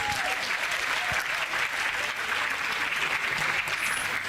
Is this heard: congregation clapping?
yes